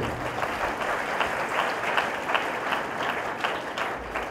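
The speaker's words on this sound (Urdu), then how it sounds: "اس کے لیے شاباش آپ کی بھرپور تالیوں میں" Congregation applause during a Sunday Mass homily in church: sustained, even clapping from a crowd that holds steady for several seconds.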